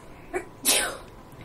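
A single close sneeze, a brief faint intake followed by one sharp, breathy burst that trails off quickly.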